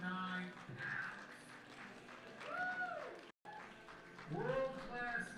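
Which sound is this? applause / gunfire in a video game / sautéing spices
applause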